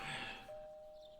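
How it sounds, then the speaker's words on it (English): A doorbell chime from the video game Persona 4 Golden: one soft, clear ding-dong tone that rings and fades, quiet and alone without speech. "You hear the doorbell ringing."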